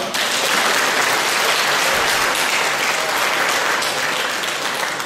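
A room full of people applauds steadily to welcome guests at a credit union's greeting event, a dense, sustained burst of clapping that holds at an even level for several seconds without speech.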